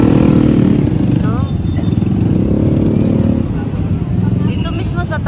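Motorcycles moving through street traffic in Limbayan, engines buzzing and revving nearby under steady talking voices, with a busy outdoor background throughout.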